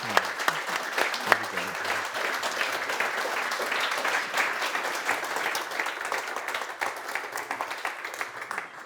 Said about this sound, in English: please, a round of applause for our panellists